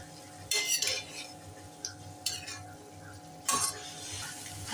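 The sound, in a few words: stirring and sautéing matki in pan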